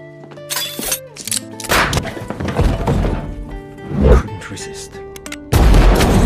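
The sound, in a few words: gunfire exchange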